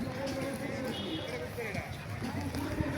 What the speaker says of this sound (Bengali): ঘোড়াটা শব্দ করতেছে ভালোই লাগতেছে